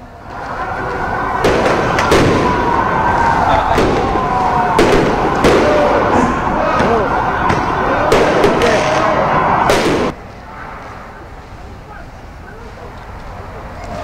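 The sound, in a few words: firecrackers exploding at a protest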